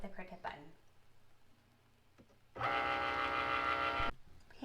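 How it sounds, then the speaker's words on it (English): A Cricut cutting machine working through medium cardstock gives a steady mechanical whirring burst of about a second and a half, close and moderately loud, preceded by quiet handling noises. "put it in the Cricut. Then I'm going to click select medium cardstock and hit the Cricut button."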